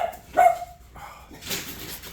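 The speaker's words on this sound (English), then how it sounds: "Oh, these dogs." Dogs bark a few times close by, one loud sharp burst followed by softer barks and yips, with a light hum in the background.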